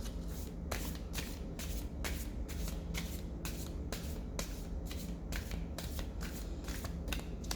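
A deck of cards is shuffled continuously for a reading, a steady close riffling rustle with rhythmic flicks and soft snaps repeating throughout, no talking.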